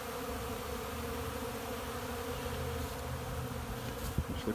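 Honeybees buzz steadily around a pollen feeder in early spring, a dense, continuous hum of many insects close by with no voices.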